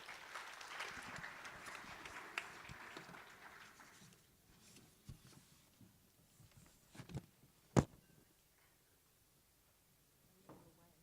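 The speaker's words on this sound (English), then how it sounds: "let's give a round of applause for Qaalfa Dibeehi" Conference audience applauds a keynote speaker, clapping loudest at first and then thinning into scattered claps, thumps and shuffling.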